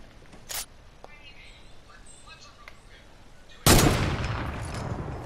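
Gunfire in a video game arena-mode match: a short sharp crack early on, then a single loud, close blast that rings out with a long decaying tail.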